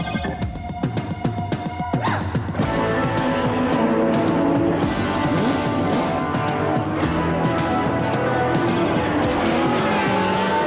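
Joe Amato's drag racer at 296 mph, a loud, harsh engine roar that starts with rapid sharp pops and then swells into a dense, sustained blast, close and dominant throughout.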